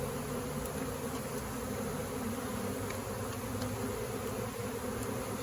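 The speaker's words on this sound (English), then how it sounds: "So many bees" A large swarm of honey bees produces a dense, continuous buzzing hum, even and unbroken throughout, moderately loud, with no talking.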